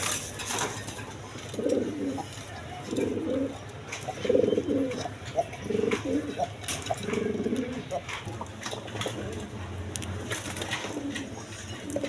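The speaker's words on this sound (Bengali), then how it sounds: "দর্শকবৃন্দ এখানে এক পেয়ার দেখেন আপনার কালদম কবুতর, একদম বিগ সাইজের দেখার মতো কবুতর।" A pair of big Kaldam pigeons coo in repeated deep, throaty phrases close by, pulsing every second or so over steady background noise while someone talks.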